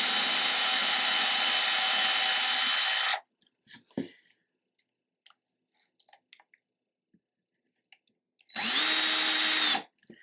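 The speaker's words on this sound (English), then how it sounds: "I'm gonna start with the smaller drill just to start up the hole." A power drill with a small bit boring a starter hole whirs loudly for about three seconds, stops, then spins up again briefly near the end; quiet scraping and clicks fill the gap.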